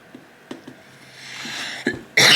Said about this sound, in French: Je tousse toujours, c'est hyper chiant.